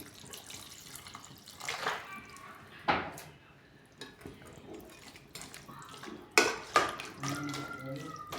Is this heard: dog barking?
no